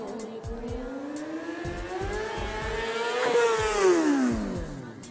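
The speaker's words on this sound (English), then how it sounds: "He's going to pop the clutch up, which is just going to jump the front tire off the ground, and then he's going to chase it with the gas" A motorcycle engine revving as the rider pops the clutch and chases it with the gas for a wheelie, pitch climbing and then falling in a loud, close sweep with sharp gear-change pops and no voices.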